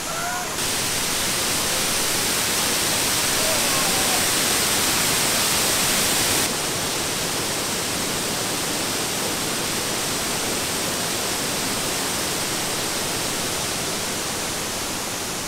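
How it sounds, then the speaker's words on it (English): A waterfall in East Bali spills down a big, flat, giant rock wall, producing a steady, dense, loud rush of falling water with no breaks, close by. "How cool of a waterfall is this?"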